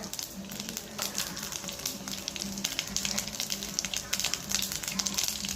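Cumin, mustard seeds, urad dal and dried red chillies sizzling in hot oil for a chapati gravy, a continuous close crackling hiss with scattered pops and no talking.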